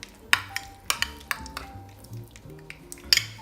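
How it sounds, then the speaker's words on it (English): Chopped garlic stirred into softened butter in a bowl, a utensil scraping and clinking against the dish in a quick, irregular rhythm of sharp taps, close and fairly clear. "We're gonna add it to this softened butter. Get all the garlic in there. Mix it in there. Mix it in the butter."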